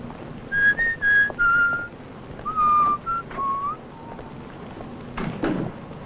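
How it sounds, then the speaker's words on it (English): A person whistles a short melodic tune, clear sustained notes rising and falling in two phrases, close and loud, followed by a soft thump. "that tune you were whistling, what is it?"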